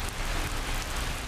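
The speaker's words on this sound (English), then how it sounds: "This was the soaking rain in 2016 when the Buckeyes were playing Tulsa." Soaking rain pouring down at Ohio Stadium: a dense, steady hiss of heavy rainfall with no letup, fairly loud and close, with no voices.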